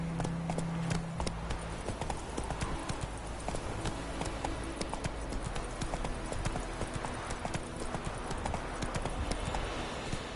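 Roach the horse gallops in the video game The Witcher 3, quick rhythmic hoofbeats clip-clopping steadily over a low ambient bed, fairly close and continuous.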